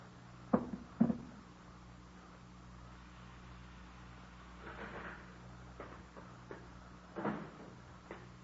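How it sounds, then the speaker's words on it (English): An indoor door is released and opened to let someone in, heard as a couple of sharp knocks or clunks followed by quieter latch and creak sounds, faint over a low steady hum. "I better release the door."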